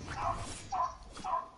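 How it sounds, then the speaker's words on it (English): A dog barks three times in spaced bursts, moderately loud, set against faint game background noise. "They will shut that dog up, buddy."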